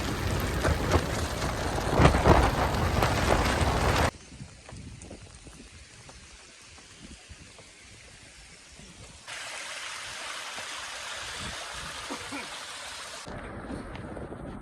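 Heavy rain pours during a drive near Kas Pathar in Satara, a dense, roaring wash that is loudest at first, drops to a quieter patter, then swells again, with voices heard at times.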